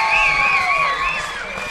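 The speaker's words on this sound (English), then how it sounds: "And the crowd goes wild for the favorite, Jason Riley." A crowd at a heavyweight fight-series event cheers wildly, with loud sustained shouting, whoops and high whistling carrying across the whole stretch, dense and close.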